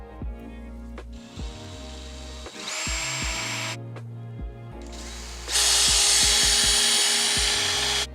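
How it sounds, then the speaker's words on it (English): Power drill boring pilot holes inside a Jeep Wrangler JL cabin, whining in short bursts that rise and fall, with a long high-pitched run near the end and clicks between bursts. "We'll drill a couple pilot holes in here."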